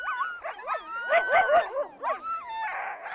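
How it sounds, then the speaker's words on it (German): Sled dog puppies about four months old whimper, yip and bark in a close, lively run of overlapping high cries and short barks, with no talk. "Meine Welpen sind gut 4 Monate alt."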